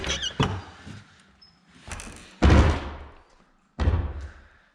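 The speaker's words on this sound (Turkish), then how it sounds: "Son kapıyı açıyorum." An old door of an abandoned house in Bedi village, Gölpazarı, Bilecik, is pushed open, giving several loud close scraping, creaking and thudding bursts separated by brief quiet gaps.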